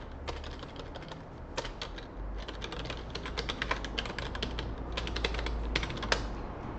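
Keys clack on a computer keyboard during a login, in quick bursts of close, crisp taps with short pauses between runs, over a low steady background hum.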